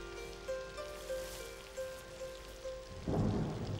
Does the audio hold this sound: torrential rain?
yes